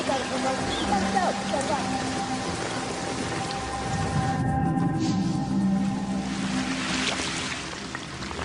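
Steady rain pattering on surfaces, heard close and continuous, with a voice narrating over it.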